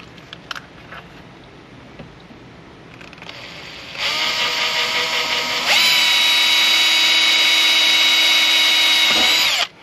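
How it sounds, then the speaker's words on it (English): A power drill whirs steadily close by, drilling a pilot hole in a 2000 Jeep Cherokee XJ; its high-pitched motor rises in speed partway through before cutting off sharply. "I need to drill a pilot hole over there"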